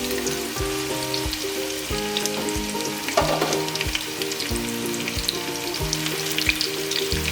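Onion hits hot oil in a pan on an induction stove for a tomato curry base, raising a dense crackling sizzle that keeps going steadily close by, with occasional faint clinks and hums in the background and no speech.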